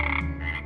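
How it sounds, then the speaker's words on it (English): A frog gives a single short croak, close and clear, with a throaty rasping texture. "The answer is... a frog!"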